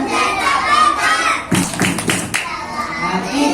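A group of children clap out a rhythmic chant in a classroom. Bursts of claps and thumps come together in a loud, dense cluster in the middle, surrounded by lively children's voices.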